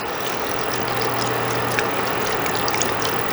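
Beef broth pours from a container over browned meat and vegetables in a pot for beef stroganoff, a continuous liquid splash and trickle with faint clinks, close and fairly loud, without talking.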